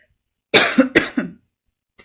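A couple of sharp, close coughs in quick succession, followed by silence and a faint tail at the end.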